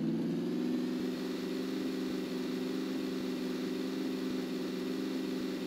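A car engine in PUBG drones steadily and loudly throughout, a constant mid-pitched hum with faint ticking and rattling underneath, holding nearly level without clear revving.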